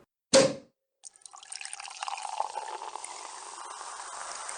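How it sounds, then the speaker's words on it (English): Champagne pours into a couple of glasses after a bottle is opened, a sharp pop-like burst, then a steady fizzing, splashing stream that runs on alone, close and moderately loud. "we'll just pour a couple of glasses of champagne, Roxy, if you want to take that bottle."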